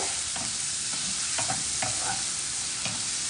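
Ingredients frying together in a pan on the stove, a steady close sizzle broken by a few sharp scrapes and stirs of a spoon, with no talking.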